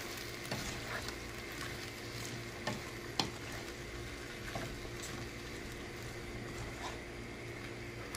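Pepper shrimp frying in a pan while being stirred, a quiet, even sizzle with a few soft clicks and scrapes of the utensil, fairly faint and steady, no talking.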